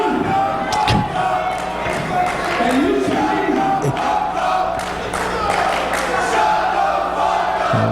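A hostile wrestling crowd at a Ring of Honor event chants and roars against Prince Nana, a loud, steady wall of voices with thuds and shouts rising and falling throughout.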